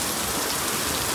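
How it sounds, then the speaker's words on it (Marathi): Heavy rain pours down over a farm during the rice threshing harvest, a dense, steady hiss of drops hitting surfaces, loud and close, with no voices. "कोडकाटीन पाऊस आलाय."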